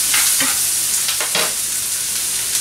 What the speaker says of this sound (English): Take my spoon here and just give that a little stir.